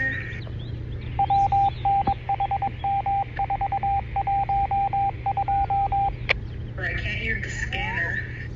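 A scanner radio plays rapid bursts of DTMF activation tones in a quick rhythmic sequence, loud and clear, over a steady hum, followed by brief garbled radio transmission.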